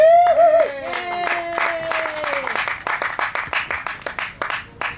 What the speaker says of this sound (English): it off with Kyle from Nowhere Homesteading, so give him a round of applause.